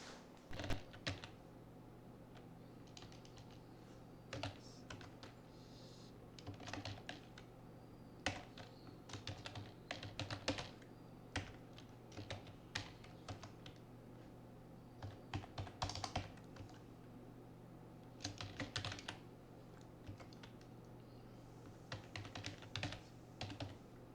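Quiet, steady typing on a computer keyboard, with bursts of rapid key clicks separated by short pauses.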